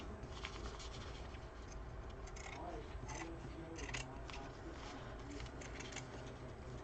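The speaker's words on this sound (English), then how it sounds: "My good scissors." Scissors snip fabric while a plush toy is being made, a run of short crisp cuts that repeat unevenly at moderate volume over a quiet room background.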